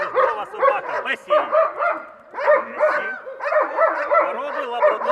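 A Labrador retriever mine-detection service dog barks and yips in rapid, excited bursts with whimpering between them, close and loud, with brief pauses separating the runs.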